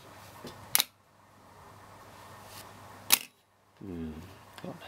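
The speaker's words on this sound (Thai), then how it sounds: "ผมจะตั้งไว้ที่ชัตเตอร์ B ก่อน" Two sharp mechanical clicks of a Pentax ME film camera shutter on bulb setting, a couple of seconds apart, with a quieter click between; a voice speaks briefly near the end.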